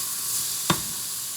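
Shrimp searing in a hot pan, a steady broadband sizzle running throughout at moderate level, with one sharp stir or clatter near the middle and another at the very end; no talking.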